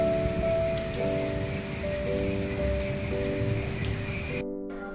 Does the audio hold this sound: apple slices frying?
no